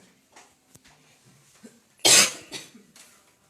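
A single loud, harsh cough bursts out close by, followed by a smaller rasp, against quiet background rustling, from a person with a slight cough.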